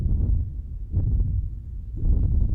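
A designed impact of a mech suit hitting the ground: three heavy, deep thuds about a second apart, each swelling into a low rumble bed, loud and close with no talking.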